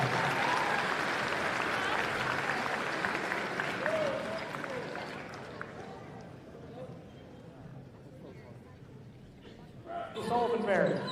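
A crowd at a women's college basketball semifinal between Illinois Wesleyan and Millikin applauds the players, the clapping steady and moderately loud at first, then fading, with an announcer talking and gym sounds returning near the end.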